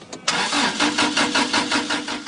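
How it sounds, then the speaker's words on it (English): A car engine running on Treezle fuel cranks but will not catch: a loud, rapid, pulsing starter churn after a brief first attempt, unbroken and close, with no voices. "But the engine just won't catch."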